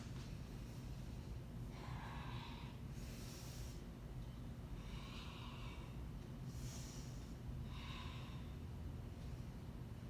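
Slow yoga breathing during a heart-opening class: soft airy inhales and exhales recur every two to three seconds, faint and close, over a steady low room hum with no talking.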